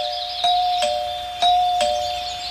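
A doorbell rings twice with a clear two-tone ding-dong chime, loud and close, in an otherwise quiet space.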